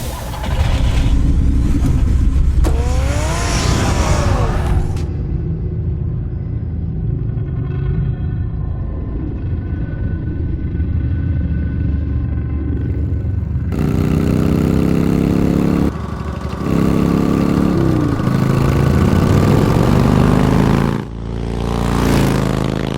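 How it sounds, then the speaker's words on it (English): A car engine in the Batman Telltale Series game rumbles loudly and steadily with shifting revs and low throbbing, heard alone with no voices throughout. "Get the car ready, Alfred."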